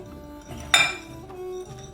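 A spoon clinks against a bowl while eggplant masala spices are mixed, with one bright metallic ring standing out amid soft scraping and stirring, close and alone.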